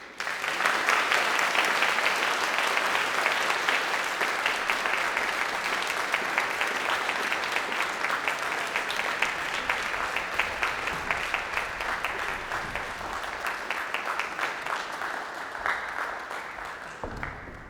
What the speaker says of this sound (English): Please give our stars one more round of applause before they leave the stage.